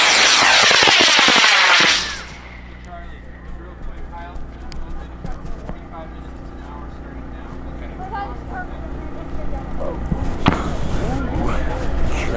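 High power rocket on an Aerotech J450 motor at a large launch event, opening with a loud roaring burn that cuts off after about two seconds, followed by crowd murmur and talk on a steady outdoor hum.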